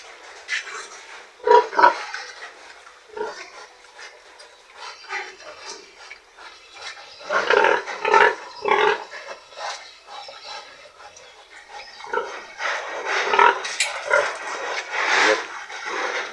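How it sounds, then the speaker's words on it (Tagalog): Pigs breathing hard in heavy heat, with close, irregular bursts of snorting and panting grunts separated by quieter gaps. "Ito yung mga baboy natin sa sobrang init."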